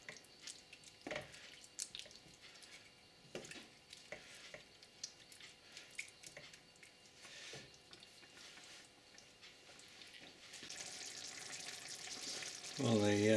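A minced meat mixture for lasagne simmering in a pan with too much water, giving soft, steady bubbling and sizzling with scattered pops and drips, close but fairly quiet, swelling louder near the end.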